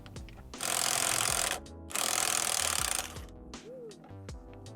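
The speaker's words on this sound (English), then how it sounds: "I'm going to use my 10mm hex connected to an impact wrench" An impact wrench fitted with a 10mm hex bit whirs in two loud, close bursts while loosening a Honda Civic steering wheel, separated by a short pause, then quieter clicks and handling noises follow.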